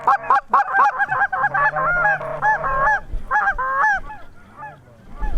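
Canada geese honk loudly and close in a dense run of repeated calls, thinning to scattered honks, with a faint low hum beneath during a Colorado goose hunt.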